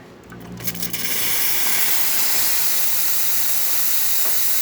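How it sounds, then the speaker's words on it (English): An espresso machine's steam wand on a Vibiemme unit blows a loud, continuous hiss of steam after a few brief clicks and a short sputter at the start, with a faint low hum underneath. "Excellent steam coming out of the machine as well"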